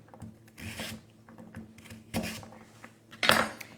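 A knife slicing a sweet potato into cubes on a cutting board gives three or four separate quiet cutting strokes, each a short scraping crunch, with soft handling noises between them and no talking.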